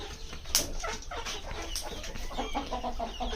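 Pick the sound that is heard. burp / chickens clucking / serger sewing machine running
chickens clucking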